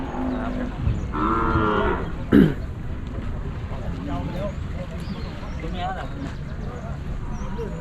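Cattle at a Thai livestock market for cows and buffalo, with one loud, close moo standing out over a busy background of people talking and general crowd noise.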